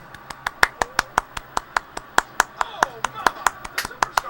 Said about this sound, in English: Let's have applause.